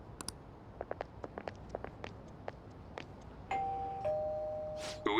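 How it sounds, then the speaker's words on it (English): A doorbell chime rings at a house in Persona 5 Royal, a two-tone electronic tone sounding after a run of soft clicking menu or footstep ticks, then fading out. "You ring the bell."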